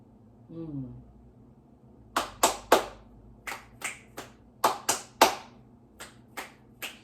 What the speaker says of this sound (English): I'm bringing back my clap snaps